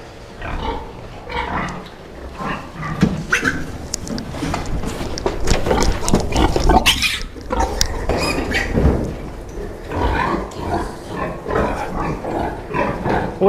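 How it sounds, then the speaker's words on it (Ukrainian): Piglets about 30 days old on a pig farm grunt and squeal continuously, a dense, close chorus of snorts and oinks with sharp squeaky bursts scattered throughout. "Ось таке порося."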